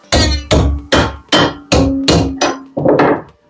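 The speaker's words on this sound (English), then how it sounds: "Sheet metal is always going to be lots of hammering noise." Repeated sharp metallic hammer blows on sheet metal of a rusty Mazda MX-5, about eight strikes in a steady rhythm with ringing tones after each, loud and close.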